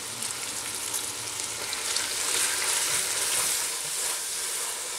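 Baked beans with stirred-in brown sugar, tomato paste and molasses cook in a pot, giving a steady, moderately loud sizzle and bubbling hiss that carries on evenly throughout with no voices.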